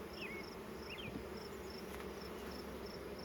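Honeybees buzzing around an open hive during an inspection, a quiet steady hum with some brief chirping insect calls and faint birdsong in the background, no speech.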